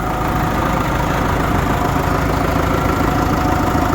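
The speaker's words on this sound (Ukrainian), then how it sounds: "Трактор працює." An MTZ tractor engine idles steadily in freezing cold around -20 degrees with a low, even rumble and chugging vibration, constant throughout with no other sounds.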